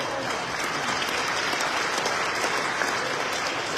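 Sustained applause from a large audience at a mayor's 2024 forecast address in Atlantic City, a steady dense wash of clapping with no talk over it.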